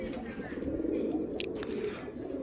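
Pigeons at a club loft in Qala, mostly piebald əbrəş birds, give a dense, continuous murmur of overlapping coos, close and steady throughout with no pauses.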